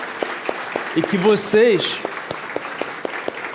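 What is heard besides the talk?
church congregation applauding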